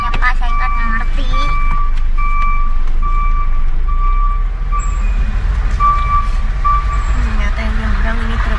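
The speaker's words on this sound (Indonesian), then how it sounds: "Ternyata yang nyebrang ini truk-truk." Trucks manoeuvre to board a ferry on a Java–Bali–Lombok sea crossing, with a loud, steady series of reversing beeps repeating over engine rumble while people talk nearby.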